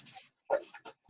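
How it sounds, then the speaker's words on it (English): A dog whimpers and whines in short uneven bursts, close and fairly loud, with brief silent gaps between the cries. "Can you help the dog calm down a little bit?"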